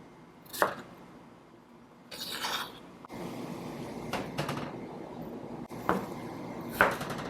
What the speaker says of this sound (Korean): 여기 감자를 좀 도톰하게 썰을 거예요